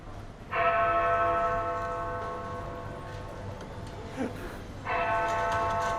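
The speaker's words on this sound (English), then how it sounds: "And actually you can hear the sound of the bell." A deep, resonant LEGO clock tower bell tolls, its long ringing tone fading slowly before a second strike rings out near the end.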